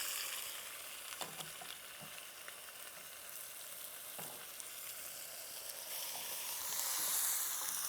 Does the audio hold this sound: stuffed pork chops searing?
yes